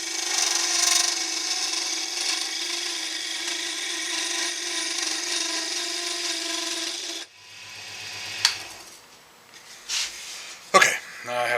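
A wood lathe turns curly maple for a guitar build with a steady, close mechanical whir for about seven seconds, then stops. A few scattered knocks and clatters follow.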